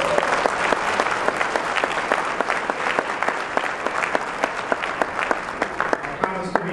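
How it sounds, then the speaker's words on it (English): An audience at an MLK Day celebration in St. Louis gives a continuous round of applause, with rhythmic accented claps standing out above the steady crowd clapping and murmuring voices. "Please join me for a round of applause"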